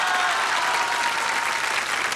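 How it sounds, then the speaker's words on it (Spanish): Dense, loud applause from a television studio audience during a tribute show, a continuous even wash of clapping with no talk. "Fuerte el aplauso para ellos."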